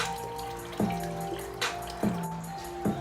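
Water running into a large fish tank being set up for a DIY monster fish pond, heard as a steady trickle with regular plopping drips repeating roughly every second, close and moderately loud, with no voices.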